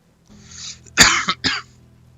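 A single person coughs nearby: a soft breath, then a sharp burst followed by two quicker, smaller coughs.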